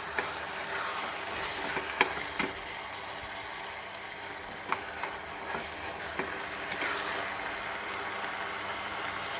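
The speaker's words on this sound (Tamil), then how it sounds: "இந்த டொமேட்டோ இதில் நல்லா ஒன்று சேர வதங்குற வரைக்கும் நல்லா அதை மிக்ஸ்" Chopped tomatoes sautéing over medium heat in a pan for paneer bhurji, a steady low sizzle broken by a few sharp scraping clicks as a spoon stirs and mixes.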